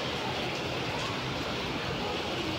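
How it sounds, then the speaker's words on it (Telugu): Steady, dense rain hisses and roars without a break in wind in Hyderabad, a heavy downpour with a constant wash of noise and no voices. "హైదరాబాద్లో గాలి వర్షం ఫుల్గా పడుతుంది"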